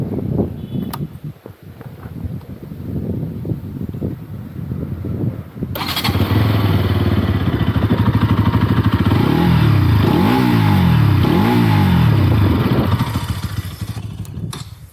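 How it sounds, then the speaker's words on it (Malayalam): After some background noise, a 2024 NS 200 motorcycle with an underbelly exhaust starts up loud and close, settles into a throbbing idle, then revs up sharply a few times before easing back. "ഇതാണ് ബൈക്കിൻ്റെ എക്സോസ് നോട്ട്"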